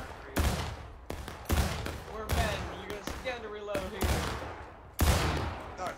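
Ragged volleys of musket fire in the War of Rights Civil War game, sharp loud cracks arriving in bursts roughly every second or so with reverberant tails, with voices talking over and between the shots.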